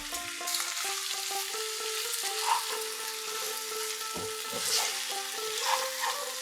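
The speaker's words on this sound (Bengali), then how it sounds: "ডিম আর ফুলকপি এক এক করে দিয়ে কষে নেব এই মশলার সঙ্গে।" Duck eggs and cauliflower sizzle and fry in a spice masala in a pan, giving a continuous close frying hiss with occasional stirring sounds, under soft background music.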